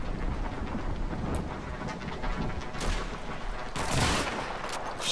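Dense rattling gunfire from a Call of Duty 2 battle, a continuous fusillade of rifle and machine-gun shots with sharper louder bursts near the end, crackling and close over a noisy background, with no talk.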